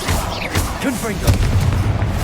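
A Confringo fire spell goes off in Hogwarts Legacy, giving a muffled boom with a short burst near the middle and a rumbling tail, heard against a busy game background.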